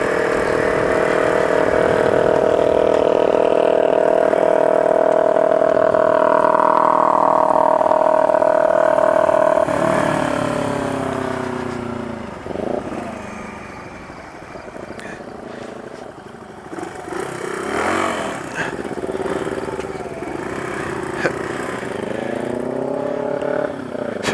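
A loud gasoline engine drones steadily inside a tunnel, then its pitch sweeps and wavers as it revs up and down, with rumbling and whirring throughout.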